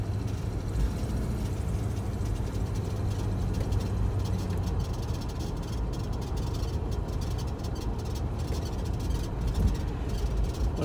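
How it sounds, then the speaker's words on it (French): A 1988 Jeep Grand Wagoneer with a 6-litre V8 cruising, a steady low engine rumble blended with road and cabin noise, continuous and fairly loud. "On entend le gros V8."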